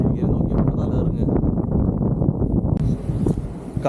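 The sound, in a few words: wind blowing at a hilltop viewpoint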